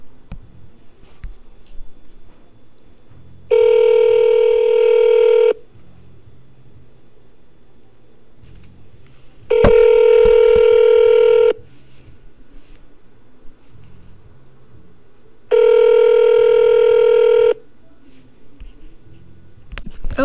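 Outgoing phone call routed through Google Voice, three long electronic ringback tones spaced about six seconds apart over a faint line hiss, steady and clear, with no one speaking.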